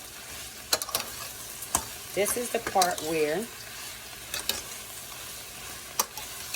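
Cabbage fries in a pan with a soft, steady sizzle, while sharp clicks and scrapes of a utensil stir it at irregular moments and a person talks briefly partway through.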